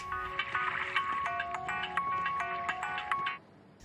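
A telephone ringtone plays a bright, repeating electronic melody of clear tones, fairly close and alone, then cuts off shortly before the end.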